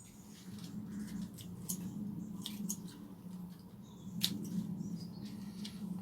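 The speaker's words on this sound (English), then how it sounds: "So basically we're just going to go around and cut the biggest leaves away." Scissors snipping the biggest spinach leaves in a UK allotment garden, a few sharp, close cuts over a low steady outdoor hum.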